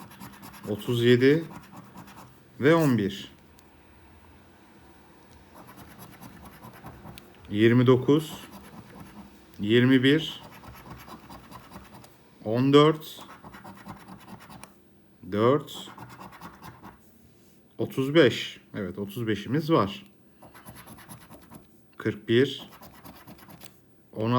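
A lottery scratch card is scratched in repeated short, rasping strokes, close and crisp, coming in bursts of one or two seconds with pauses between, while a voice talks quietly in between.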